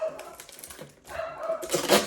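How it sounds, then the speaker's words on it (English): Dogs barking indoors or nearby, a few short barks and yips mixed with clattering and a man's speech, moderately loud. "Dog's barking."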